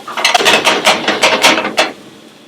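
Red wine, 750 milliliters, pours into a pan in a quick run of rhythmic glugging splashes that last about two seconds and then stop, close and fairly loud, with no talking.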